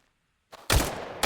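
A burst of gunfire in the Tactical Assault VR game breaks a short silence: a brief shot, then a loud, dense rapid volley, and a second volley starting right after, close and alone.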